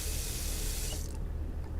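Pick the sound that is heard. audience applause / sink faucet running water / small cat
sink faucet running water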